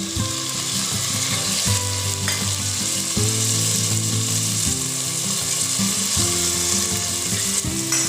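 Chopped onion, tomato and a piece of ginger fry steadily in a pan, a constant bright sizzle with rhythmic scraping and stirring clatter throughout, close and loud with no talk.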